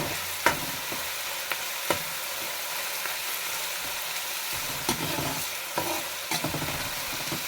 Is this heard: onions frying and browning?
yes